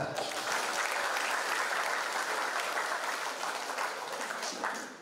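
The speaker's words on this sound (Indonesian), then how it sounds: "tepuk tangan dulu." University teacher-training students applaud together at an opening ceremony, a dense, steady wash of clapping that holds at full strength for about five seconds before easing slightly at the end.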